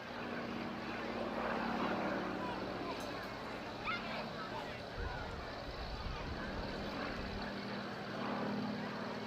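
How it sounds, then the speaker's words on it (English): An aircraft flies at the Wales Airshow on Armed Forces Day. Its engine drones in a steady, loud broadband roar for the whole stretch while a commentator talks over it. "a very special treat to see this aircraft here at the Wales Airshow"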